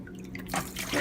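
Water splashes and drips off a soaked handmade wig as it is shaken out over a sink, a short, close patter of droplets that grows briefly louder.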